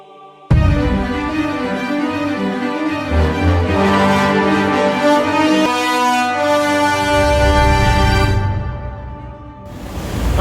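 Busy main street in Mongkok, Hong Kong, with a long, loud, sustained vehicle horn blaring over traffic noise for several seconds, then cutting off before another burst of street noise.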